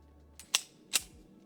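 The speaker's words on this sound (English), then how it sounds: "we're going to do 10 rounds slow fire just to see how this stuff feeds" Two sharp gunshots from a Ruger Security-380 double-stack .380 pistol fired slowly, each crack standing alone with a clear gap between them and no talking.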